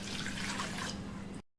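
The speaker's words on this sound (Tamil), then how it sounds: "ஒரு பேன்ல 2 கப் அளவுக்கு தண்ணி எடுத்துக்கோங்க" Water runs steadily from a tap into a pan, two cups measured for cooking weight-loss kanji porridge, a continuous close pour that stops abruptly.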